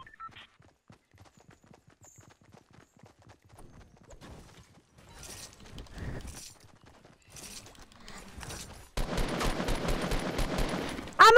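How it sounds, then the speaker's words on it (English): Gunfire in the video game Fortnite, rapid bursts of shots that turn loud and dense near the end, after quieter scattered game sounds and some clopping effects. "I'm already shooting"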